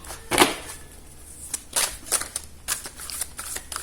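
Tarot cards are shuffled by hand nearby, with a series of soft riffling and snapping bursts at an uneven rhythm.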